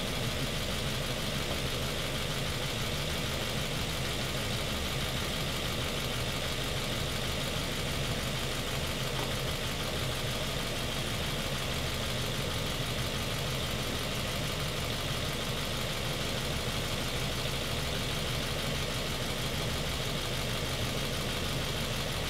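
A car engine idles steadily at operating temperature while its coolant system is being bled, a constant low mechanical hum with a faint knocking texture and no voices.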